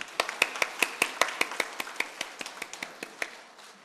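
Church congregation claps in a steady rhythmic beat, around twenty sharp claps in under four seconds, close and clear with no talking.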